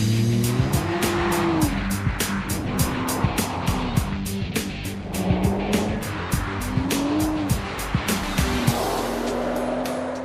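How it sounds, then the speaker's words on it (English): A 2013 Nissan GT-R on a test run, its engine revving up and down as the tires squeal repeatedly, loud and close, with rhythmic thumps through the run. "That's a 2013 Nissan GT-R, nicknamed Godzilla, and this is the 2-minute test run."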